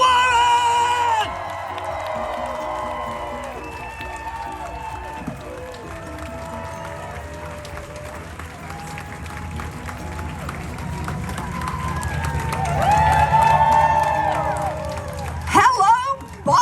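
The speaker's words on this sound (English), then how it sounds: "Let's get a rousing round of applause for the United States Senator Elizabeth Warren!" A rally crowd in Chinatown, Boston cheers, whoops and applauds for Senator Elizabeth Warren, a sustained loud roar over a PA voice, swelling toward the end.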